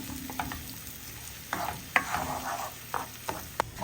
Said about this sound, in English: And we begin to stir.